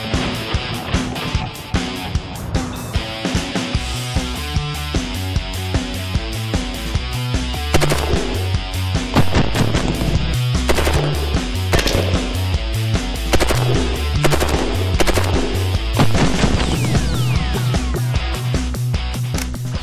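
An MG36 machine gun fires sustained rapid bursts at steel targets on an outdoor range, loud and close, with dense overlapping shots and no talk.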